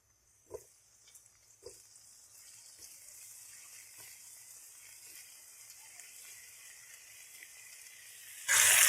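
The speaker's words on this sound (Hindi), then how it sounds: "पोटैटो को हम 2 मिनट फ्राई करेंगे।" Potatoes fry with green chillies in a pan, giving a faint, steady sizzle. A few soft clinks sound early on, and a louder burst of noise comes at the very end.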